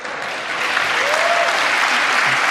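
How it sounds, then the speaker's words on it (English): Raucous applause fills a State of the Union address, a dense, sustained wash of clapping from a large chamber crowd that holds steady and loud throughout. "you now hear the raucous applause"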